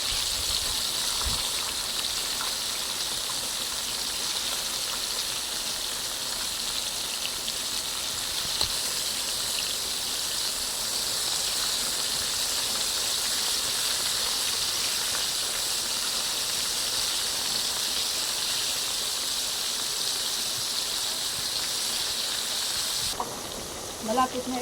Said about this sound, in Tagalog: Ayan guys, kumukulo.